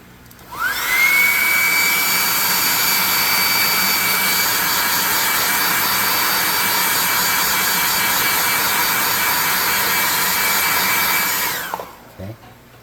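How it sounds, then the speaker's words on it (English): Hairdryer blowing steadily on a painted terrain piece, a loud continuous whirring rush with a faint high whine that starts abruptly, holds for about eleven seconds, then cuts off. "Let's hit this with the hairdryer."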